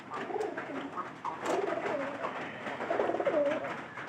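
Pigeons kept in a tin-roofed house coo close by, several soft throaty rolling calls overlapping in a continuous murmur.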